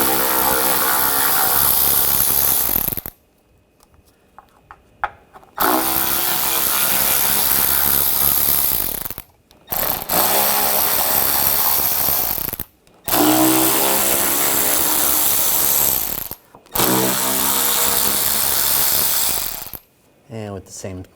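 A power ratchet drives a 10mm socket to remove nuts from the rear engine splash shield of a 2007-2013 BMW X5, loud whirring bursts of a few seconds each, repeated five times with short pauses between.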